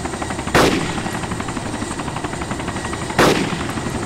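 Sustained rapid gunfire rattles continuously, loud and close, with two sharper blasts punctuating the stream; no voices. Shots fired at a helicopter's tail rotor in the video game DayZ Origins.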